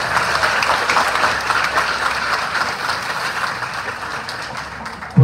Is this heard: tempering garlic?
no